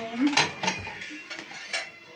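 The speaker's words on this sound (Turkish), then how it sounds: "Şöyle Edanur bulaşıkları yıkıyor." Dishes being washed at home after a meal: pots, pans and cutlery clatter and clink in several sharp bursts, fairly close, with faint voices in the background.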